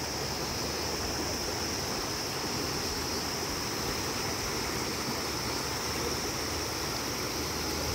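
River water rushing steadily beneath a bridge, a dense unbroken roar with no breaks or voices, loud and close.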